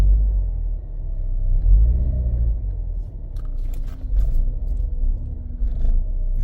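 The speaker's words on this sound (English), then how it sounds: "You see the car have some hesitation, but no check engine light." A Ford Escape with fuel codes after a body control module crash, moving with engine hesitation: a deep, uneven low rumble that surges and dips, close and loud, with faint scraping and no talking.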